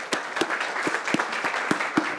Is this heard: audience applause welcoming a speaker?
yes